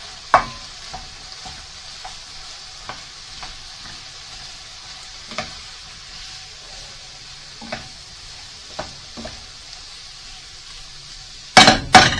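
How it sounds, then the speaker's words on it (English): Rabbit and chorizo frying in a single pan, with a quiet steady sizzle punctuated by a dozen sharp metallic taps and stirs from a utensil, and a louder clatter of scraping near the end. "now we're going to fry it for around another sort of 30 seconds"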